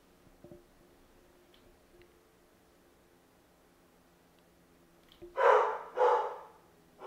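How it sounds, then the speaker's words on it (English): A dog barks twice in close succession near the end, loud and fairly close after several seconds of quiet room noise. "And the dog is barking again."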